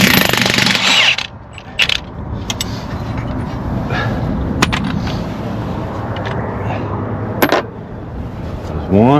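Power tool hammering off a 21 millimeter bolt on a Dodge Journey front strut, loud rattling bursts broken by pauses, with a person talking nearby.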